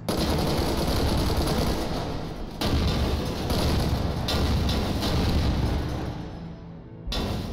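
Rapid gunfire from a newly picked-up gun in a video game, dense repeated bursts in long sustained strings broken by brief pauses, loud and close.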